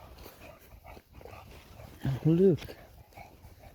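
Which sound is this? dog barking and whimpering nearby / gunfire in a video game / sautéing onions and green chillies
dog barking and whimpering nearby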